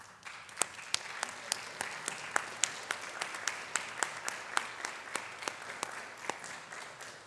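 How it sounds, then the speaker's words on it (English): Faculty and staff at a college honors night receive applause from a fairly sparse audience, with individual claps standing out as distinct sharp, rhythmic strikes over a softer bed of clapping, moderately distant and steady. "while we're clapping"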